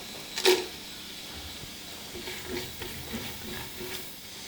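Ginger garlic paste with cardamom, cinnamon and cloves is sautéed in a pan for chicken biryani: a soft frying sizzle runs under scattered scraping stirs and one sharp knock near the start.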